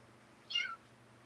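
A pet kitten named Godzilla lets out a single short, high meow, close and clear against a quiet room.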